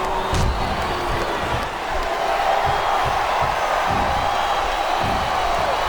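Wrestling arena crowd in WWE SVR 2008 during a Bret Hart match, a continuous roar of cheering with scattered thuds and whoops, steady and fairly loud.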